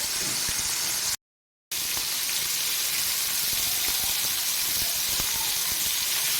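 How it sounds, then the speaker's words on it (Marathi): Food pieces frying in hot oil give a steady, close, loud hiss and crackle that runs continuously, broken only by a brief total dropout, with no voices. "आता हे आपण चांगलं तळून घेऊया"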